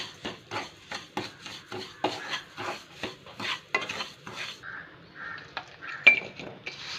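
Semolina roasting in ghee is stirred around a pan with a spoon, a steady rhythm of close, quiet scraping strokes about twice a second, faint sizzling between them.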